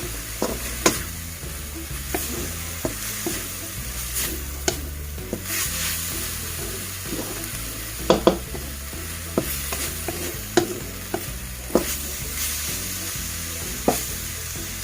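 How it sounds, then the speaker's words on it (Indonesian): Vegetables for urap being stirred in a pan over the stove without oil, a steady dry sizzle under repeated scraping strokes of a spoon against the pan, close, irregular and continuous, with no one speaking. "kita aduk-aduk terus sampai nanti matang ya"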